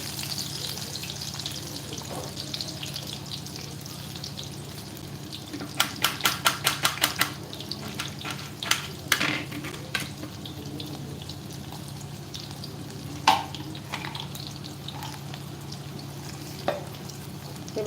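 Chopped onion frying in hot oil in a home kitchen pan, a steady sizzle running throughout with a quick burst of spatula scrapes and clinks midway and a few later knocks, no talking.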